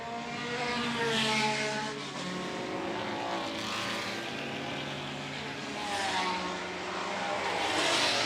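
Historic race cars at Goodwood, including a Tech Mech, pass through Woodcote Corner with a steady, loud engine roar that swells and fades as cars go by, heard at moderate distance without talk.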